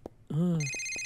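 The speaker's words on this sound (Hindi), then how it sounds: "इस फोन को बंद करो।" A mobile phone ringtone rings out in a cartoon library, a bright electronic melody that rises and holds steadily for about a second after a brief spoken word.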